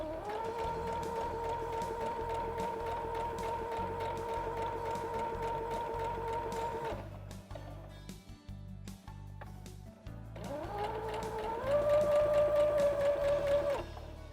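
A sewing machine stitches a small girl's bag in a steady fast mechanical hum with rhythmic needle ticking, pausing briefly midway before running again slightly higher and louder.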